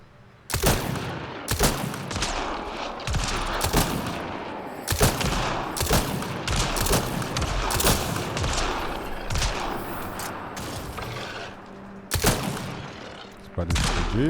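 Bursts of gunfire from a newly acquired weapon in Mass Effect Andromeda, loud near shots and rapid volleys repeating across the stretch with brief gaps between groups.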